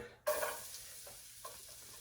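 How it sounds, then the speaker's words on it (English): Chopped garlic cloves hit hot olive oil in a pan and burst into a loud, bright sizzle that settles into a steady crackle, with a few stirring scrapes and no voices. "Next thing, we're going to add 2 chopped cloves of garlic."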